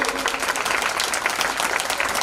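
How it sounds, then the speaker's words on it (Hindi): Steady applause from a crowd, dense continuous clapping at an even level throughout. "तालियां कमजोर है।"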